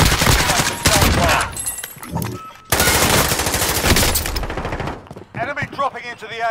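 Rapid bursts of automatic gunfire in a shooter game fill most of the stretch, loud and close with short breaks between volleys, ending in scattered lighter sounds.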